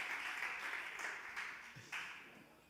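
A church congregation applauds with a soft, steady wash of clapping that swells briefly and then tapers off, heard from a distance at low volume.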